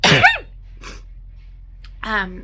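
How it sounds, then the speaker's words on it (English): A single close sneeze bursts out at the start, followed by a short breath and a brief vocal sound a moment later. "I'm gonna sneeze"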